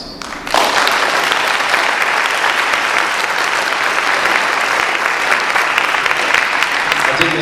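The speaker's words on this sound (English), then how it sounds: "Please give them a round of applause." Loud, sustained audience applause for an expert panel on the Common Core, breaking out abruptly and continuing as a dense, even roar of clapping from a large room.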